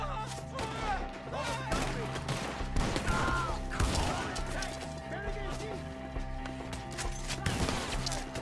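Scattered gunshots and impacts ring out in a Red Dead Redemption 2 shootout beside a tree, sharp transient bursts spread across the clip over a steady game music bed, with voices talking throughout.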